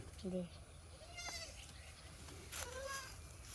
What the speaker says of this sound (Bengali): দুইটা ছাগল বড় বড়